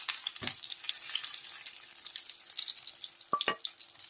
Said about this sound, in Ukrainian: Так, смажемо далі.